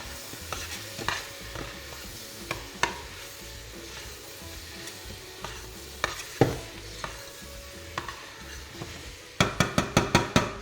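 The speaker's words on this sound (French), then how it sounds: "je vais remélanger les oignons" Onions and meat simmer gently in a pot on a cooktop while a utensil stirs and scrapes against it, with scattered knocks that end in a quick run of rapid taps.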